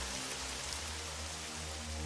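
Steady rain falls on cobblestone streets as a dense, even hiss of drops without a break.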